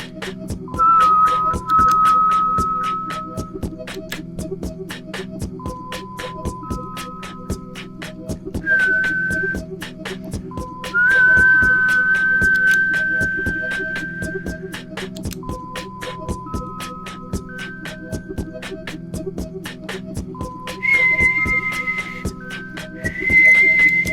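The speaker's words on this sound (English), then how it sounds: "All I did was whistle." Layered human whistling, live-looped, plays a looping melody of short sustained notes over a steady rhythmic backing, sounding synth-like and bright.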